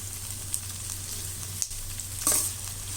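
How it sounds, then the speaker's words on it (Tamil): Two small tomatoes and onions sautéing in oil for a brinjal gravy, with a constant close sizzle and occasional spatula stirs and clinks, no voices. "இப்போ வதக்கிறதுக்கும் 2 சின்ன சைஸ் தக்காளி வெங்காயம் இதெல்லாம் வதக்கிட்டு இருக்கோம்."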